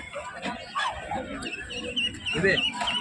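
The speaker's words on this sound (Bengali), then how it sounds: "দেখতে পাচ্ছ দেশি মুরগি পাওয়া যাচ্ছে এখানে" Desi country chickens cluck at a busy village market in Ghatal, heard close under constant crowd chatter and a nearby voice talking.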